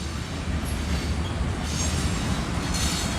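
An eastbound Iowa Northern freight train rolls past in Cedar Falls, Iowa, a steady loud rumble of railcars with faint high wheel squeal, close and continuous without talk.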